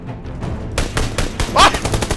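Sniper rifle gunfire in PUBG Lite cracks in a rapid series of loud, sharp shots, about half a dozen in two seconds.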